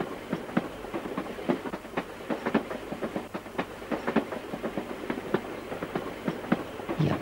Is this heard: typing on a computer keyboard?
no